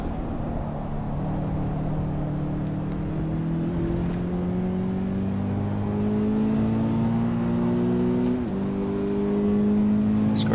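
A racing car's engine in Assetto Corsa EVO drones steadily, its pitch climbing slowly through the gears with a brief shift dip, sustained and fairly loud throughout.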